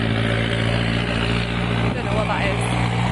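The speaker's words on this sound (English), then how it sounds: "It sounds like there's a tractor or something behind me." A low, steady engine rumble drones in the background, like a tractor running nearby in the Cotswolds village of Bibury, England, while a person talks over it.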